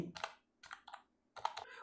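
Computer keyboard keys typed on a PC in three short, quiet bursts of rapid clicking, separated by brief pauses, with no voices.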